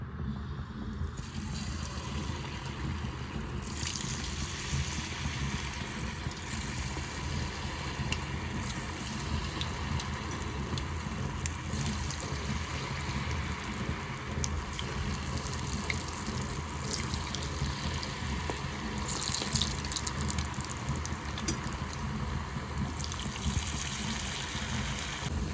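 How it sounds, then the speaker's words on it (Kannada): Batter-coated cauliflower for gobi 65 deep frying in hot oil, giving a steady, dense, close sizzle that continues unbroken throughout with no talking. "ಫೈವ್ ಟು 10 ಮಿನಿಟ್ಸ್ ಫ್ರೈ ಮಾಡೋಣ."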